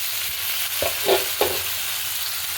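Chopped tomatoes land in hot oil over golden fried onions and green chili and are stirred, a steady soft sizzle with a few brief scraping stirs close by.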